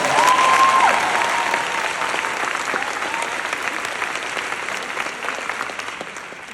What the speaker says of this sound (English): we should keep doing that clapping thing